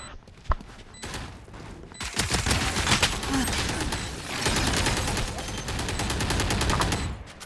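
Rapid bursts of gunfire fill a video game battle royale match, a single sharp shot early on followed by dense, sustained volleys of automatic fire that continue steadily to the end.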